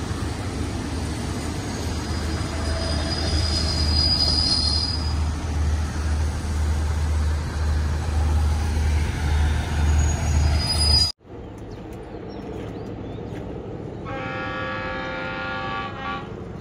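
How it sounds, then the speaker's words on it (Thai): Train QSY 5211 pulls into Ban Pong station with a loud steady rumble and engine drone that cuts off abruptly, followed by a quieter hum and a faint high-pitched tonal whine. "ทำขบวนโดย QSY 5211 นะครับ เอาจอดสถานีบ้านโป่งนะครับ"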